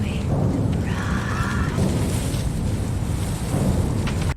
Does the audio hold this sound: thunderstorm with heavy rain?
yes